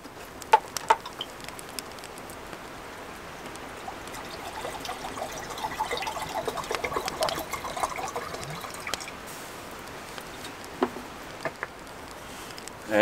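Water trickling and pouring into a pot for camp coffee outdoors, a soft, steady liquid stream with occasional drips and clinks, fairly faint against open-air background.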